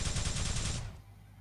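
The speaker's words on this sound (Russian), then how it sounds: "Прыжок во время выстрела, Димон." Rapid automatic gunfire in a video game, a dense burst of shots lasting under a second that cuts off abruptly, followed by a fading tail.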